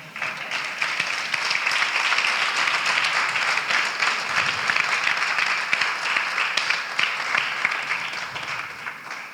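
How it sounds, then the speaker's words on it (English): Sustained audience applause fills a graduation ceremony hall, loud and steady throughout with dense clapping from a large crowd, tapering slightly at the very end. "I'm going to want a bigger applause for him."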